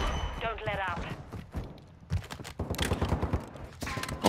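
Rapid bursts of gunfire from the video game Call of Duty crackle in quick clusters under excited talk from players.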